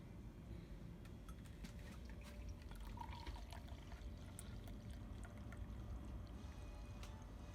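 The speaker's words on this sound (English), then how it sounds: "I'm going to use my strainer to strain into my teacup" A dark cinnamon decoction is strained through a strainer into a teacup, making a faint, close trickle of pouring liquid with small drips.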